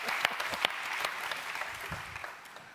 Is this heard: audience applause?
yes